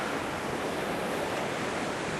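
Sea waves wash onto the shore of the Tarkhankut coast in a steady, dense roar of surf with no distinct breaks, blended with wind rush.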